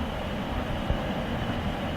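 A loaded southbound BNSF wheat grain train rolls past as a steady, broad rumble and rail roar, close and continuous, with no voices.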